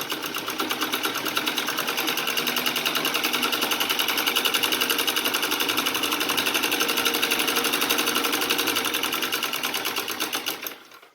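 A domestic sewing machine stitches fabric in one steady, close, loud run of rapid needle clatter that lasts several seconds and then stops abruptly, with no talking over it.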